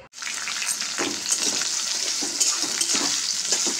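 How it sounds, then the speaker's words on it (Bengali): Bay leaves with dried and green chillies hitting hot oil in a wok give a loud, steady, close sizzle and crackle that fills the whole stretch, with no talking. "কড়ার মধ্যে তেল চাপিয়ে দিয়েছিলাম, তেল গরম হয়ে গেছে, দিয়েছি তেজপাতা, শুকনো লঙ্কা, সঙ্গে কাঁচা লঙ্কা"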